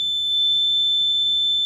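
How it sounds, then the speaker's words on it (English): An Arduino window alarm goes off when the window is opened, giving one continuous high-pitched electronic beep tone, steady and loud, close by and without speech. "If I open the window or remove this magnet, the alarm will sound"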